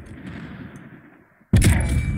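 A loud, sharp gunshot blast in the game Call of Duty: Warzone cuts in suddenly after a stretch of low rumbling ambience, followed by a sustained ringing roar.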